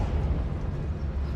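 An Incendio fire spell goes off in the game Hogwarts Legacy as a short, deep rumbling burst that holds steady for about a second and a half.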